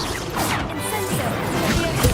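A fire spell crackles with a whooshing burst in Hogwarts Legacy, a short magical blast of flame over a busy game soundscape, with no clear speech.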